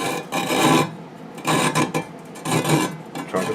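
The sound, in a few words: sawing a 6013 welding rod to shorten it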